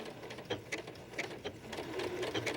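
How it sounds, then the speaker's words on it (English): A sewing machine stitches quilt fabric in a steady series of soft mechanical ticks and whirs, moderately quiet and close, running alone without speech. "So I'm going to stitch on the background and come over and take a bite."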